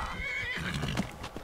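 A horse whinnies in Skyrim in a high, wavering neigh, followed by a few soft hoof clops, fairly close and heard on its own.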